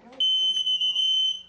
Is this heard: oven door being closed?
no